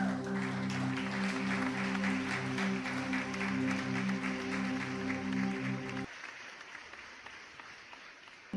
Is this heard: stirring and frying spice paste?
no